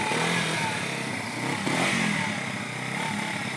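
A 200cc Honda Grom engine runs with a steady buzzing idle and a brief rise partway through, fairly close and moderately loud, with no one talking.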